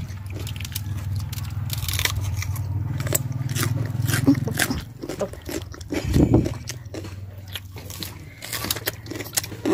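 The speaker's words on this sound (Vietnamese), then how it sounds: "Để mình cắn gần sát bên nghe âm thanh nha" Crunchy green-skinned papaya is bitten close up, several crisp snapping bites followed by wet chewing and crunching, loud and near, with no talking.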